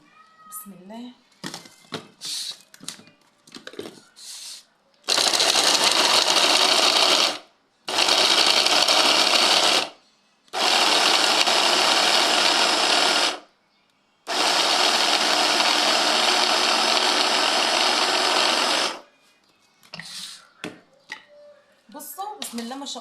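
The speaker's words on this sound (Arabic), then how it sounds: "لو حطيتوه في الفريزر واستعملتوه في الكبه او في الخلاط هيتفرم معاكم بسرعه" Kitchen blender mincing frozen ingredients for pickle, without water: four loud, close bursts of high-pitched motor whir a few seconds each, separated by short pauses, with someone talking before and after.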